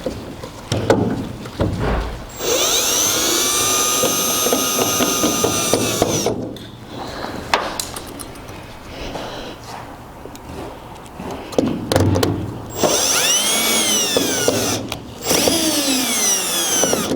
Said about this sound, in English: We'll get back to the drill.